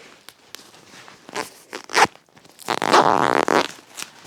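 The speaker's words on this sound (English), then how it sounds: "I was able to push up right here and get this zipper to separate" Scattered clicks and rustles, then a rough, ratcheting zipper sound as teeth pull apart, close and fairly loud, trailing off into light handling, at a winter tarp shelter camp.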